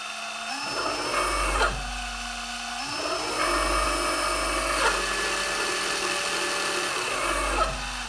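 Machine tool motor run from a homemade frequency converter in a black printed box, whining steadily with tonal hum that rises and falls as the speed changes several times, fairly loud and close, no talk.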